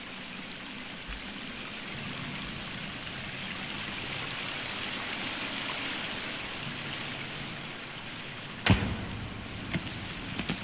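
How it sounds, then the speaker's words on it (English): Loud water rushes continuously through a cave in the survival game The Forest, a broad steady roar like a stream or waterfall, with a few sharp clicks near the end. "That's some loud water."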